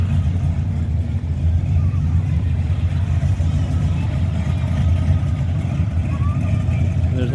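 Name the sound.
Chevrolet Blazer driving by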